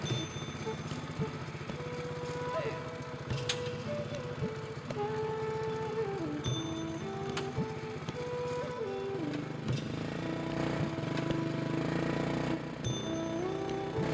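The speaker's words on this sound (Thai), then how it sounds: "แต่เป็นรถมอเตอร์ไซค์พ่วงข้าง ของชาวบ้านใจดีรับเราไปด้วย" A motorcycle with a sidecar giving travellers a ride along a rural road, its engine chugging steadily and loudly throughout, with shifting pitch as it revs and gusts of wind noise over it.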